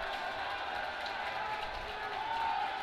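Steady crowd murmur fills a hockey game at Daytona Ice Arena (ERAU vs Miami), a continuous mid-level roar of many voices with no distinct cheers or claps standing out.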